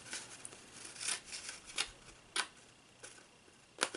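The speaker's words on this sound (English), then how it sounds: "you could go ahead and just grab your scissors" Scissors trimming paper or card for a handmade craft project, a few crisp snips spaced irregularly with quiet pauses between them, close and fairly soft, no voices.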